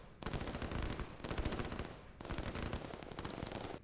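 Artillery units firing in the real-time strategy game Line War, heard as dense, continuous bursts of rapid booming shots in two loud volleys, with a brief dip between them and no voices.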